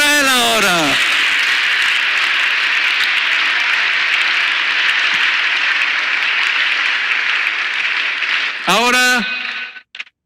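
Loud, sustained applause from a church congregation, a dense even roar of clapping filling most of the stretch, bracketed by brief bursts of a raised voice at the start and end.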